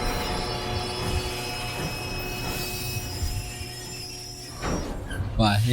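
A rumbling train in the video game Red Dead Redemption, with metallic clatter and squeal as it slows, ending with a sliding door noise; voices talk over it.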